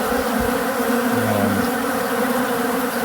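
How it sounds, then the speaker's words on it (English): Robber bees swarming over removed frames of honey outdoors, a loud dense continuous buzz of many bees close by, with individual insects droning past. "You can see the bees are pouring in"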